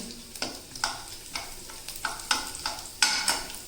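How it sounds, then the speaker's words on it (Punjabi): Garlic fries in hot oil on low flame for a tadka for palak paneer, a soft sizzle broken by regular scraping stirs of a spoon across the pan, roughly two strokes a second, up close. "ਆਪਾਂ ਤੜਕਾ ਲਗਾਵਾਂਗੇ ਤੇ ਆਪਾਂ ਥੋੜੀ ਜਿਹੀ ਪਾਵਾਂਗੇ ਲਸਣ"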